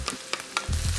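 Garlic sizzles in a pan while a Shepherd's Pie filling cooks, a soft steady frying hiss broken by a few light scraping stirs, close and fairly quiet.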